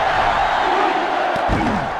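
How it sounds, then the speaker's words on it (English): A dense stadium crowd roars in the NCAA Football 2005 video game during a Florida State versus Miami college football match, a loud sustained wall of cheering with a few thumps toward the end. "this crowd is going absolutely insane"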